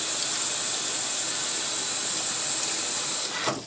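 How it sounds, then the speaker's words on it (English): A GE GTW750CSLWS top-load washing machine fills with hot water for a colors cycle, giving a steady, loud rushing hiss that holds evenly for over three seconds before tapering off near the end. "looks like the hot water just kicked on for a colors temperature, so the lid may steam up here"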